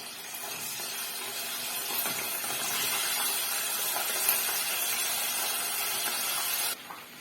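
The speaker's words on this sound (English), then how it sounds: "So this is our meat that we're frying." Meat with onions frying in a pan for local jollof rice, a steady broadband sizzle and hiss heard close and fairly loud throughout, with no talk over it.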